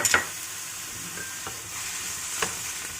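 Vegetables and jackfruit sizzle in a pot while a utensil stirs them in a few light scrapes and knocks against a steady frying hiss, close up and without talking.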